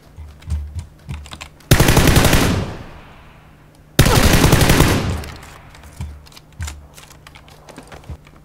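Gunfire from the tank combat video game TANX comes in two loud sustained bursts of rapid automatic fire, each trailing off, with fainter clicks and game sounds in between.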